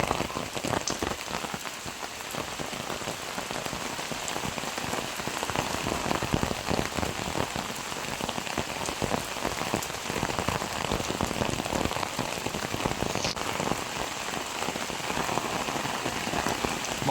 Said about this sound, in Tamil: இன்றைக்கு வந்து எங்கட ஊரில் நல்ல மழை.